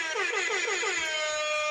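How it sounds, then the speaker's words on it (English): An air horn blares in one loud, sustained, wavering blast lasting well over a second, with no other sounds. "I'm giving you the air horn just because I'm trying to make myself feel better"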